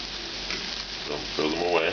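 Bacon fries in a pan, its rendered fat crackling in a steady, close sizzle that grows busier and louder toward the end, with no talking.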